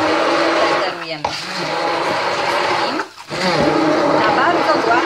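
A kitchen blender runs continuously, blending millet with coconut milk into a smooth mass for an Easter pascha, with a brief dip in the motor noise partway through; no one speaks.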